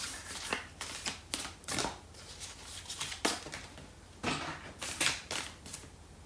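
Tarot cards are shuffled and drawn in a quiet room, a series of soft riffling bursts and flicks in irregular clusters, close and faint, with no talk.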